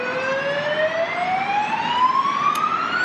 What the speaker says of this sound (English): That is what we call an ambulance here in Australia.